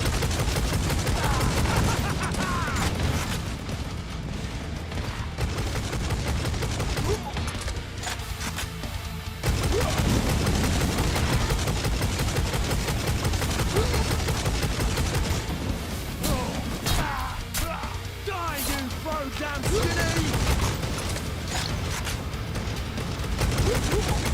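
Sustained heavy gunfire from a gun in Necromunda: Hired Gun, dense near-constant bursts with booming impacts and crashes that drop briefly and resume, with voices in the mix.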